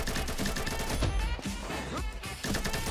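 AK rifle firing in the shooter game Combat Master, rapid bursts of automatic gunshots in quick succession, loud and close, layered over game sound effects without talk.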